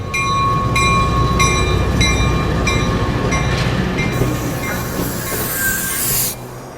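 Radio-drama sound effect of a train riding the rails, a loud steady rumble with rhythmic clicking of wheels over track joints and a high screeching squeal near the end.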